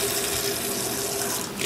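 Tap water pours steadily into a basin for cleaning a doll, a loud, close, continuous rushing splash that stays even throughout with no voices.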